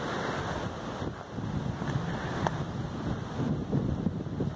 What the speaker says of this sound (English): it is very windy at the top